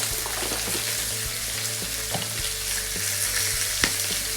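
Steak searing in a hot pan, a dense continuous sizzle loud and close, with occasional soft clicks and a low steady hum underneath, no voices.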